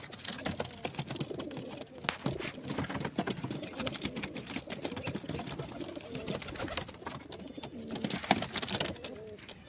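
Pigeons perched overhead on a rooftop setup coo in soft, repeated throaty calls, a steady murmur of several birds close by with faint clicks and background noise throughout.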